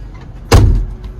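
The side door of a VW California Ocean camper van slams shut once, a single solid close, loud and close-up with nothing else around it.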